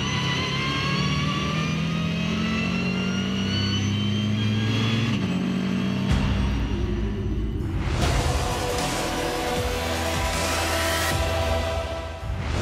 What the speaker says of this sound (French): Cuvette où on va arriver en 5 et on rétrograde en 2 pour remonter dans la ligne droite